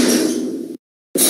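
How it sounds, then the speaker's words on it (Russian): An elevator door in a 2016 Mogilevliftmash/MK-Lift lift in a Russian apartment building slides shut with a rumbling slide. Brief silence follows, then another loud burst of mechanical sound. "Закрытие двери."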